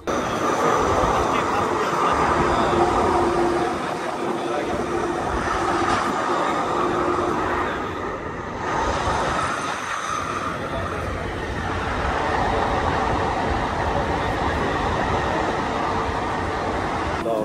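A train in London rumbles along on the rails with a steady, fairly loud roar from inside the carriage, briefly easing and swelling as it travels.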